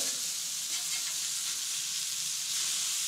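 Food sizzles steadily in a hot frying pan after being flipped over, a constant close bright frying hiss with no talking.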